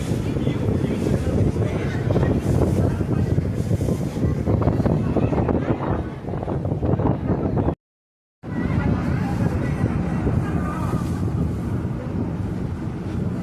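A passenger launch boat travels along the Ganges near Bally Bridge, with a steady low engine rumble mixed with heavy wind buffeting the microphone and water rushing past, continuous apart from a brief dropout.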